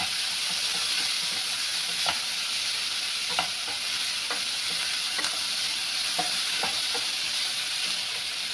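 Tomatoes and salt are stirred in a hot pan over a steady, hissing sizzle, with a spoon scraping and tapping the pan every second or so, near and clear.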